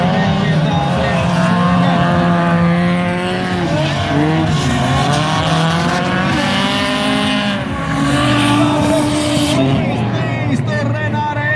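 Rallycross race cars roar around the 333 track during the fourth round of a 2016 Folkrace event, engines rising and falling as they rev through gears, loud and continuous beneath a commentator's voice.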